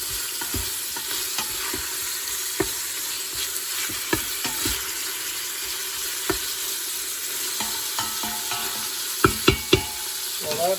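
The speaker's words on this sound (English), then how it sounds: "we're gonna brown this meat" Ground beef with pepper browning in a pan, a steady low sizzle and frying hiss with scattered clicks and scrapes from stirring.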